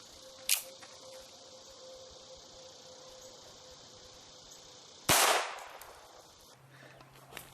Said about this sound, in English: let's start out with the 22 long rifle out of this P22